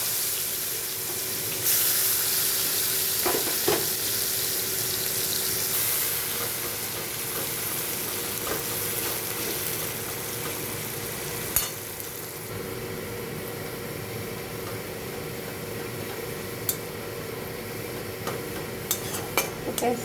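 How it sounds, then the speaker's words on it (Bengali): Onions fry in oil left over from frying rohu fish, giving a steady close sizzle throughout with occasional clinks of a utensil against the pan. "এই মাছ ভাজার তেলের মধ্যে এখন আমি পেঁয়াজগুলো ভেজে নিচ্ছি"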